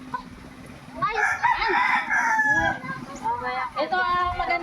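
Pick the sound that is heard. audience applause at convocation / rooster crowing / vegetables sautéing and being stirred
rooster crowing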